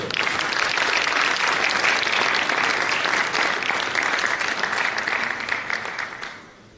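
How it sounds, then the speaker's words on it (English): An audience at a forum breaks into loud, sustained applause, many hands clapping densely before it tapers off and fades at the end. "Please give a round of loud applause to Dr. Barafan."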